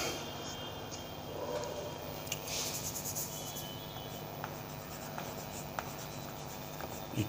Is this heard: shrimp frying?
no